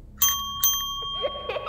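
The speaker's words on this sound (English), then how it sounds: "Hollywood Tower Hotel Bell." A small Hollywood Tower Hotel souvenir bell is struck twice, giving bright ringing dings that sustain and decay, followed by faint handling noises and a light rustle.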